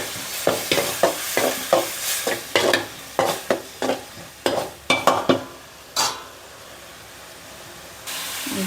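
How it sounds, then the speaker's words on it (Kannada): A spoon stirs a puffed rice mixture with tamarind in a pan, with a run of close, irregular scraping taps over a low hiss, then a softer stretch of steady sizzle. "ಚೆನ್ನಾಗಿ ಕಲಿಸ್ಕೊಳ್ತೀನಿ"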